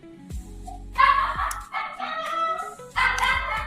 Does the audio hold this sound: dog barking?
yes